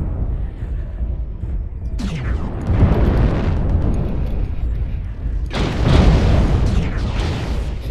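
A destroyed mech explodes in MechWarrior Online on the Tourmaline Desert map, with two loud, rumbling blasts a few seconds apart, each followed by a long crackling decay.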